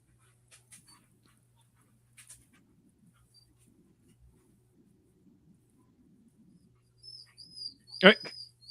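A dog in a Kamen Rider episode gives a short, high-pitched whimpering whine near the end, after a mostly quiet stretch with faint scattered sounds.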